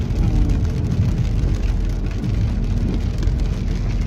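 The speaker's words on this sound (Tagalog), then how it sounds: "Ang lakas ng ulan." Heavy rain pours steadily in a dense, loud, unbroken wash that holds constant from start to finish, with no voices.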